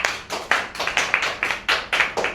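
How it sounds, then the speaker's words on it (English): Steady, evenly spaced hand claps from a debate audience, about a dozen sharp slaps in a brisk rhythm, close and fairly loud, with no voices. "We can give a big clap for the opposition leaders."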